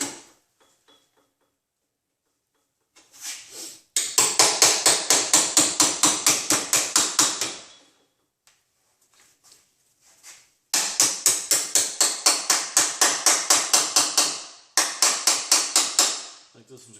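Repeated loud hammer blows strike a part being salvaged from a 2013 Honda Accord EX-L, coming in fast rhythmic bursts of metallic knocks separated by pauses, close to the listener.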